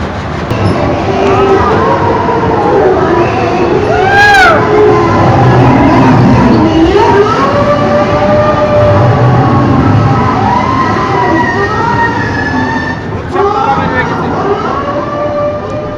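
A train passing through Barishal station, with a steady, loud rumble throughout, rising and falling horn- or siren-like tones, and people talking.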